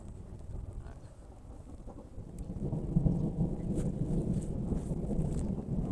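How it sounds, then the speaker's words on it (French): Deep rolling thunder builds and rumbles on for several seconds, with rain and wind noise underneath. "C'est un festival de coups de tonnerre."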